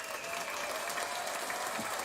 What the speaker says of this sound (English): so let's clap. Let's clap.